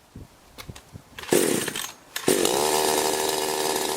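A chainsaw engine mounted on a homemade chainsaw-powered bicycle gives a few light clicks, then roars to life loud and close, cuts out briefly, and restarts into a steady, buzzing high-revving drone.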